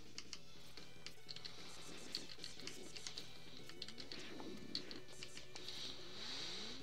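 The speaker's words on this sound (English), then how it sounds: "you guys can hear my controller. Me pressing the buttons." Game controller buttons pressed during a Mega Man X session make faint, rapid plastic clicks, closely miked but quiet, scattered over steady low game audio.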